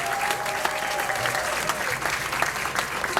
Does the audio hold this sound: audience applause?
yes